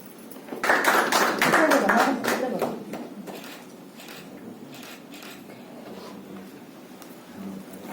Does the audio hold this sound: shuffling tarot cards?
no